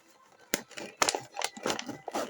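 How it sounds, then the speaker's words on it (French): Scissors snip and crinkle through the plastic packaging around a Masters of the Universe toy card, giving a run of irregular, close cutting crunches. "Je découpe tout le plastique"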